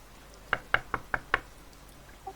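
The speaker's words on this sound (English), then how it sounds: "He's gonna get up and go knock on the door." Five sharp knocks on a door in a quick even rhythm, close and distinct against a quiet room, followed by silence and a faint small click at the end.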